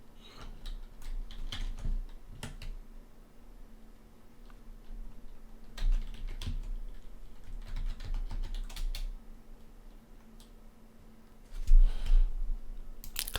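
Login password typed on a computer keyboard, a run of quick light key clicks in irregular bursts, fairly close and soft, with a louder cluster of taps near the end.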